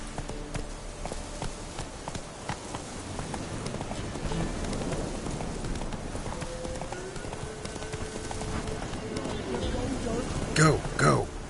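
A horse gallops steadily in The Witcher 3: Wild Hunt, its rhythmic hoof clops running continuously at moderate volume, with a brief louder burst of noise near the end.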